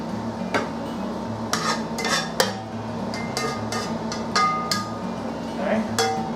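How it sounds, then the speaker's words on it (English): Spoonfuls of cooked shepherd's pie meat are scraped into a metal cake pan, with a scattered series of sharp clinks and scrapes of spoon on pan and bowl over a low, steady background. "Now comes the fun part of getting this beautiful meat into the pan."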